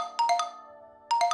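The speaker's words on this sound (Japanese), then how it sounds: "奥山さんからの電話？" Phone ringtone for an incoming call in the idol game IDOLY PRIDE: a clear electronic chiming melody plays two short bursts separated by a brief sustained tone, bright and close, with no voices.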